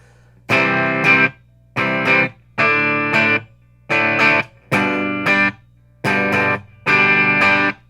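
A Fesley FDK800 electric guitar on a clean tone with slight gain plays seven separate strummed chords, each ringing briefly before a short pause, loud and close.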